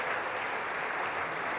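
Graduation ceremony crowd clapping and cheering for a sport and exercise science department, a dense continuous burst of applause at moderate volume from a large gathering.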